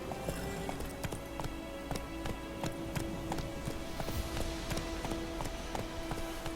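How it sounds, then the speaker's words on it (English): Roach the horse's hooves in The Witcher 3, a steady run of clip-clop hoofbeats, moderately close and fairly quiet against soft game ambience. "And there's Roach, the magical teleporting horse."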